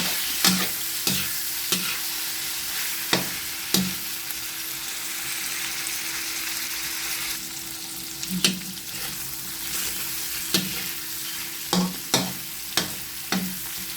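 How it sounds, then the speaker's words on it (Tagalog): Shrimp sautéing in a pan, a steady sizzle close by, broken by regular sharp clacks of a spatula or ladle against the pan as it is stirred, with no talking. "Ilagay ko na po yung hipon. Igisa po natin mabuti para hindi po malansa."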